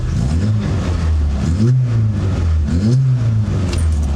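A small car engine, a 1993 Rover Mini with a slight exhaust leak, revs repeatedly, rising and falling in pitch several times, loud and close, with a steady idle rumble between revs.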